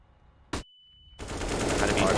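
Gunfire in a Counter-Strike esports match, a single sharp shot followed by a short pause and then a dense stretch of rapid firing and game noise.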